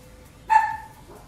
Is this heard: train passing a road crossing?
no